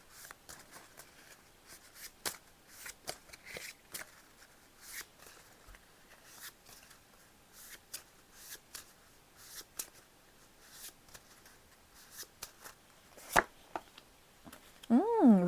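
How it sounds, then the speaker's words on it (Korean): Tarot cards being shuffled and drawn, soft irregular card slaps and rustles close to the mic, with a voice speaking intermittently over them. "마지막으로 조언 카드 뽑고 3번 우리 리딩 해보도록 할게요."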